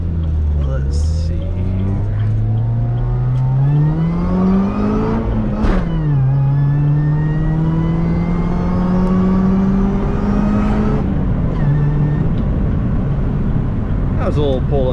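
A car pulls up to 70 with a rising engine whine that climbs, dips at two gear changes and climbs again, heard from inside the cabin over a constant road drone, with talk mixed in.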